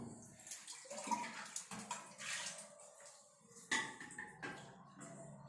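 Water is poured over a Shiva idol during an abhishekam ritual, a steady splashing, trickling flow close by that surges in uneven bursts throughout.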